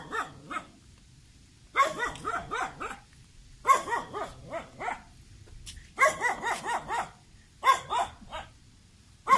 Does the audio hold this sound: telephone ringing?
no